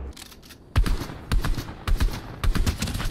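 Enemy gunfire aimed at the player during a custom match in a shooter video game: several sharp, close shots arrive in irregular bursts, with short gaps between the volleys.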